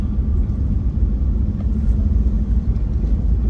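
A car rolls slowly through the busy parking lot of the 99-dome mosque in Makassar at Friday prayers, its engine a steady low rumble heard from inside, continuous and fairly loud with no voices.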